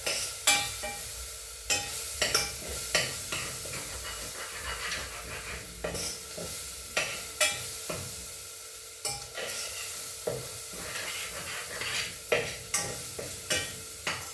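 Food frying in oil in a home kitchen pan is stirred repeatedly, with sharp scraping strokes and utensil knocks at an irregular pace over a low, continuous sizzle, and no voices.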